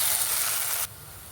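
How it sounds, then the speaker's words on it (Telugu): Ginger garlic paste frying in a pan, a bright steady sizzle that cuts down sharply to a quieter hiss partway through. "అల్లం వెల్లుల్లి పేస్ట్ వేగిపోయిందండి"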